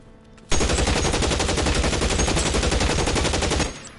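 Rapid automatic gunfire from the video game L.A. Noire bursts in abruptly and rattles on loud and continuous for about three seconds before cutting off.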